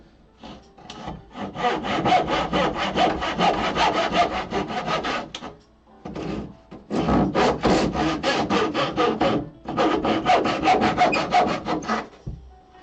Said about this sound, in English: I'm just gonna finish off with this handsaw.